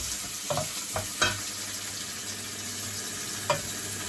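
Food sizzles steadily in a pan during home cooking, with a few distinct clinks and scrapes of a utensil stirring it, close and moderately loud.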